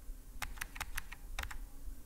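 Keys on a computer keyboard are tapped in a quick, uneven burst of about ten crisp clicks, close and clear against a quiet background.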